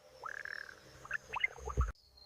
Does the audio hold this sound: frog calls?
yes